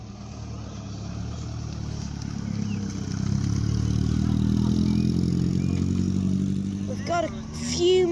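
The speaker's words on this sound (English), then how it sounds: "Here departs one of the Lotus Elans here at the festival." A classic Lotus Elan sports car leaves a car festival at a country inn, its engine droning steadily and building as it drives off nearby, with voices and background chatter faintly underneath.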